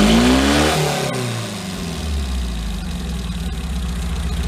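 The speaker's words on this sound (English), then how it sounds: "I'm gonna try revving that gas pedal a little bit" A new mini truck's engine is revved with the gas pedal while running rough and uneven, like a hit-and-miss engine, starting with a rising rev and then settling into a steady, lumpy, throbbing run close by.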